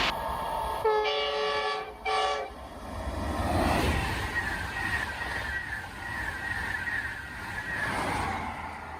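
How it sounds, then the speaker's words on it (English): An LNER model train running on a layout, with a loud horn-like tone at the start followed by continuous close rumbling and clattering of the running stock. "we've got some rather loud LNER stock running"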